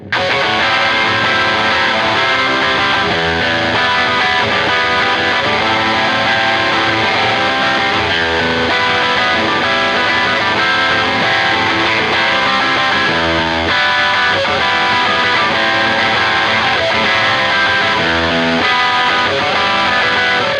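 An electric guitar plays a dense, loud riff through two overdrive pedals split left and right, one side clean with light crunch and the other far more driven and high-gain, in an aggressive tone, continuous throughout.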